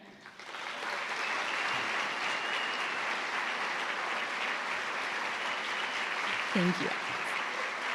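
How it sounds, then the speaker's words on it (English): A lecture audience applauds a musician with sustained, dense clapping that fills the room evenly for several seconds, followed by a short spoken thanks near the end. "join in giving a round of applause to our musician"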